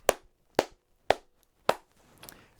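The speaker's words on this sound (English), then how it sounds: "I'm going to go ahead and do my clapping for the audio syncing" Four sharp hand claps at an even pace, close and loud in a quiet room, made to sync audio before a behind-the-scenes shoot, followed by a softer trailing tap.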